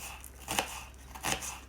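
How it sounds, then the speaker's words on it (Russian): A knife finely chops a small purple onion, giving two soft, quiet cutting strokes against a board about a second apart over low background hum. "либо мелко-мелко нарезаем мелкими маленькими кусочками."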